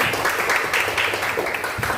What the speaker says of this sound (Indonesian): Oke, berikan tepuk tangan teman-teman.